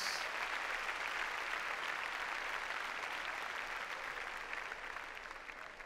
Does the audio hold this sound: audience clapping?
yes